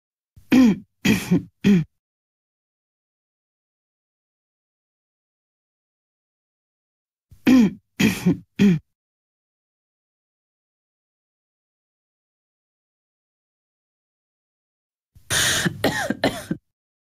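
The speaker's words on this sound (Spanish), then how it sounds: "también voy a mostraros las etiquetas para toser" Synthetic Loquendo text-to-speech coughs and throat clearing come in three separate bursts of three or four sharp hacks each, with dead silence between the groups.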